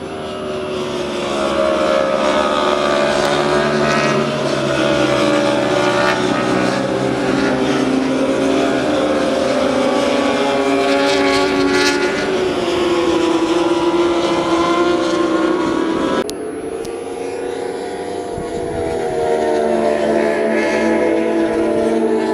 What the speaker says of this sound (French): Vous allez voir à quelle vitesse les motos ici déboulent.